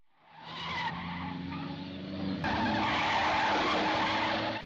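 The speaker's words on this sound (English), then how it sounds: "in the car chase they used the same scene twice" Car tires screech and skid loudly during a 1962 spy-film car chase, a continuous squealing roar with engine noise that steadies and swells after a sharp cut midway.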